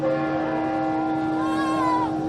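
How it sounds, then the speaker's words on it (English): Church bells ring out the hour of seven before a building implosion on Main Street, a steady sustained tolling with harmonic hum and overlapping strikes, moderately loud against outdoor ambience. "And the bells are sounding 7 o'clock."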